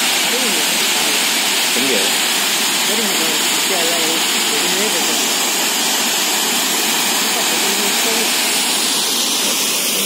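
A hidden waterfall near Ooty roars with a dense, continuous rush of falling water, loud and close throughout, while people talk briefly over it.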